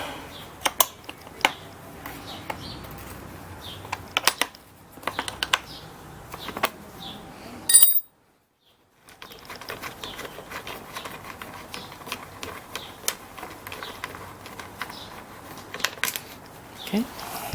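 Screws come out of the airbox of a Kawasaki KLX140L dirt bike, with faint clicks, taps and scraping of a tool and plastic parts heard close by, interrupted by a brief silent gap.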